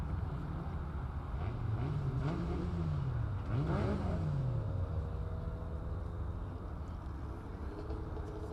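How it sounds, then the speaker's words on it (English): Liqui Moly Super V race cars at a historic racing championship circuit rev up as they roll out, engine notes rising and falling in pitch as they pass, over steady wind noise with no talking. "we're standing by for Liqui Moly Super Vs to make their way onto the circuit"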